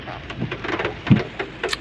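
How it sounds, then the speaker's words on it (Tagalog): Heavy rain pours steadily around a vehicle near Mandaluyong City Hall, a dense, even wash of noise with a few louder thumps and splashes, close by. "Lakas ng ulan."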